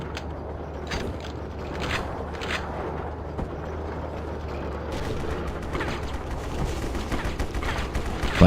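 Gunfire in the online shooter War Brokers: bursts of shots and clattering mechanisms crackle steadily over a dense game background. The firing grows busier and sharper toward the end, with no talking.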